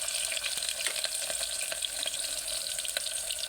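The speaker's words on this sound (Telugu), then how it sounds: "సుయ్యమంటుందంటే నూనె వేడైపోయింది." Food crackles in hot oil for a Telangana-style mutton curry, a steady close hiss with scattered sharp pops throughout and no talking.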